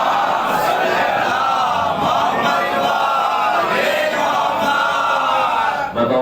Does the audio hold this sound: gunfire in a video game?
no